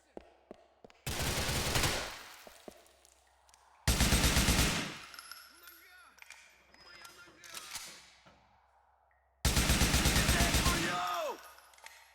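Assault rifle gunfire in Grand Theft Auto IV: three loud, sustained automatic bursts separated by quieter gaps with scattered impacts and mechanical clatter.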